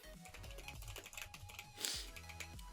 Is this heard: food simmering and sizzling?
no